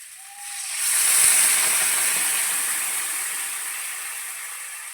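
Water poured over pumpkin in a hot pan for a Bengali fish curry sets off a sudden loud hiss that surges, then slowly fades as the steam settles.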